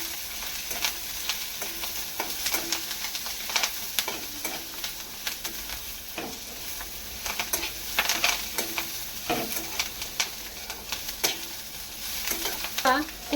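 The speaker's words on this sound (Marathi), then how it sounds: "त्यामध्ये लसूण, अद्रक आणि कोथिंबीर घालूया. तेही चांगलं परतून घेऊया." Garlic, ginger and coriander sauté with browned onion in a pan for a rustic Maharashtrian brinjal curry, a steady close sizzle broken by repeated scraping stirs of a spatula.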